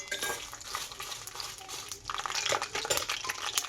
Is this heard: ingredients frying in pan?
yes